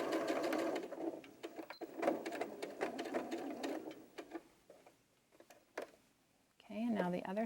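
Sewing machine chain-stitching the shoulder seams of an 18-inch doll dress: rapid mechanical whirring in bursts that start and stop, close by, with a pause near the end and a voice talking over it.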